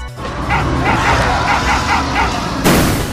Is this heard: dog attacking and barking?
yes